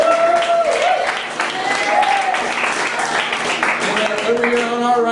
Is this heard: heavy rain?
no